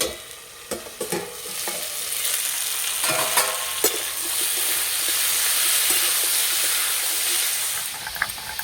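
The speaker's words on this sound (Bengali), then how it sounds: "চাপাটা খুলে সবজিগুলো একটু নেড়ে দেব।" Mixed vegetables fry in little oil in an uncovered pan for a fish-head mixed vegetable curry, a few spatula clanks and stirs, then a strong steady sizzle and hiss with more scrapes at the end.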